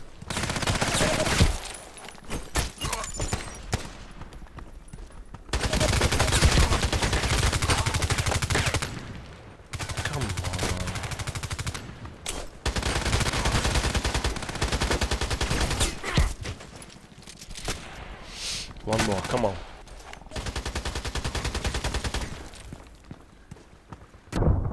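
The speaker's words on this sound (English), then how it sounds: "He's using a lot of machine gun stuff." Rapid bursts of machine gun fire from a shooter video game, loud and dense, coming in long clusters broken by brief gaps and footstep-like thuds, with no talking.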